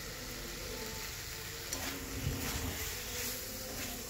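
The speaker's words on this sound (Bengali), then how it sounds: "তো বেশ ভালো করে লাল লাল করে ভেজে নিচ্ছি" Potatoes fry with bay leaves and five-spice seeds in a pan, giving a steady, moderately loud sizzle and crackle with a few light stirring scrapes midway, continuous throughout without talk.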